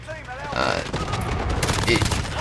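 A Modern Warfare-style MP7 in the game Rust fires in loud, rapid bursts that crack and rattle up close, with overlapping gunfire throughout.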